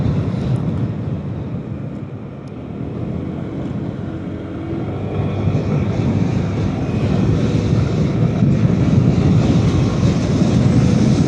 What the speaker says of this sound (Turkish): şöyle gazı çektim mi biraz yokuş aşağıyım ama hemen 90'ları bulu veriyor